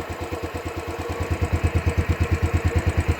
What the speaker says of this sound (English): So I've just used the fast idler switch to start the engine.